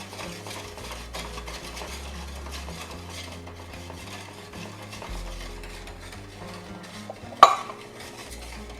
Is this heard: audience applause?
no